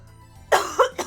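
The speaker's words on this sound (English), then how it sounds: "I want to stop coughing." A sick person coughs three times in a quick, close burst, the middle and last coughs sharp and short, after a faint background hum.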